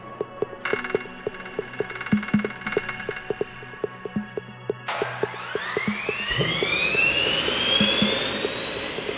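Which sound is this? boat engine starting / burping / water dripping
boat engine starting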